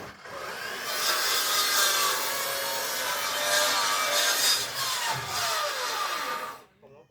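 Steady rasping strokes of a hand saw cutting through wood, continuous and close, with a brief pause near the end.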